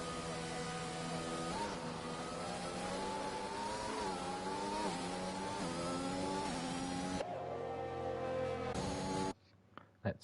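Formula 1 cars, a Williams and a Ferrari, leave the pits at Imola in a racing video game, their high-pitched engines rising and falling in a steady, whining drone before cutting off abruptly near the end.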